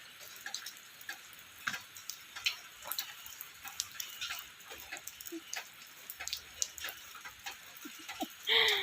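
Rain patters steadily outdoors as someone plays in it, a soft continuous hiss scattered with many small irregular drops and ticks, with one louder splash near the end.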